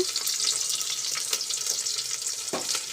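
Onions sizzle and fry in hot oil for a boti curry, a bright steady crackle with a few sharper spits and pops, close and alone without speech.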